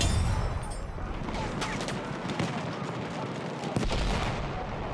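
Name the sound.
machine gun fire in the video game Battlefield 1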